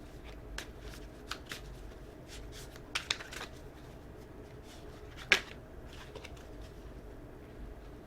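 Tarot cards being shuffled by hand, giving soft, quiet riffling and a series of sharp little card snaps and taps at irregular intervals over a low background hiss.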